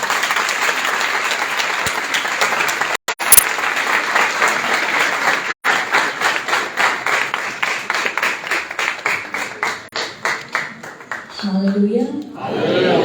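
Congregation at a church gathering claps loudly and continuously, settling into a rhythmic beat of hands before dying away as a voice speaks near the end.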